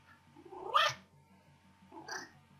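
A pet cat named Denisław gives two meows, the first longer and rising, the second shorter. Both are moderately close and sound hoarse and squeaky over a low background hum.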